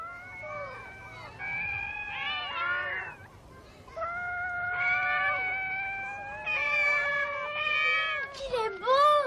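A small cat meows and caterwauls repeatedly, with long drawn-out wavering cries close by, one after another, and a brief pause midway.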